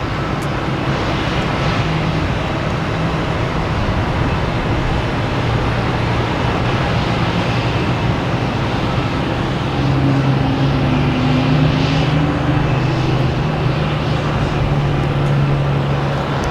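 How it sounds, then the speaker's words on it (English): Aer Lingus jet bound for Shannon at Boston Logan Airport, a steady broad engine roar holding throughout with a low droning hum that rises slightly in the second half, no voices. "we have Aer Lingus heading to Shannon"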